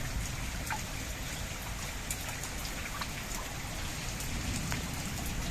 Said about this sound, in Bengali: ভালোই বৃষ্টি হলো।